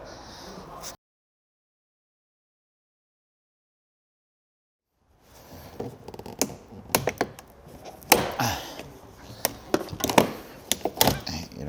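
A window switch panel being pried out of a Renault SM7 car door, a burst of sharp plastic clicks and snaps at close range after a stretch of silence.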